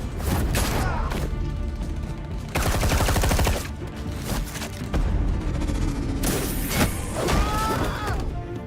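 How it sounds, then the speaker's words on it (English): An assault rifle fired one-handed in the Batman Telltale Series video game blasts in loud, rapid bursts of automatic fire with heavy impacts and booms, repeated several times with short gaps. "Wait, you're gonna one-hand an assault rifle?"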